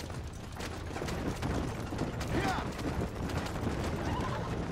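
Horses whinny with clip-clop hooves on a road in the video game Red Dead Redemption, set against a steady bed of game ambience, with the neighing standing out near the middle.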